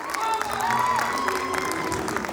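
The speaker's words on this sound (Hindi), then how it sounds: "एक बार अपने खुद के लिए तालियां बजा दीजिए।" An audience at an Urdu mushaira poetry gathering in Hyderabad claps and cheers, a continuous round of applause with some raised voices and a tonal sound drifting above it.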